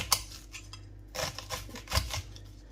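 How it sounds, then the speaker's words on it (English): A knife slices onions lengthways for pakoras, giving a few sharp, quiet chopping taps against a cutting board at irregular intervals in a calm kitchen. "I'm just cutting the onions lengthways"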